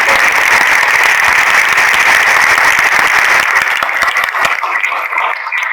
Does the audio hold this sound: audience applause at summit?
yes